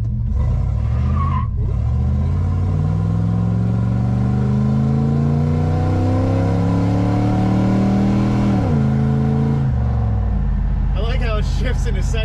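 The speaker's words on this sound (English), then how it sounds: "this goes 0 to 60 in 9 seconds." A 1969 Lincoln Continental accelerates from a standstill, its engine droning loud and rising steadily in pitch, with a shift dip near the end before the note drops away; a voice speaks briefly over it at the close.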